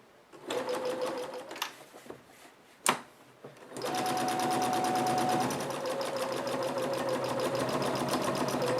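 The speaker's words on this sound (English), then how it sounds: "we're just going to sew all the way around with our 1/2 inch seam allowance" A sewing machine stitches a fabric seam with a half-inch allowance around a coupon organizer or clutch purse, starting with short bursts and then running steadily and loud up close, with no talk.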